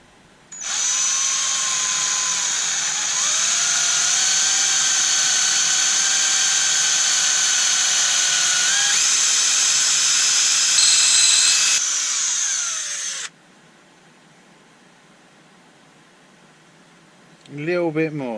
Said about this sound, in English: I'm going to drill a hole in the top of it first. Freehand with a drill bit,